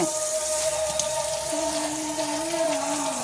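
Steady running water fills the space, a continuous close hiss like a tap pouring into a sink while pearl millet is washed, with faint clinks underneath.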